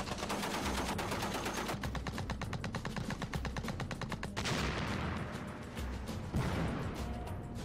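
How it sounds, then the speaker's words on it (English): Sustained machine gun suppressive fire near a bamboo hut in a war scene: rapid, loud bursts of rattling shots running almost continuously, with brief gaps and a harder crack or two, and no talking. "while I'm laying down suppressive fire"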